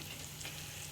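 Thinly sliced onions frying in a pan for aloo stuffed idli, giving a steady, even sizzle throughout, close and moderately quiet with no voices.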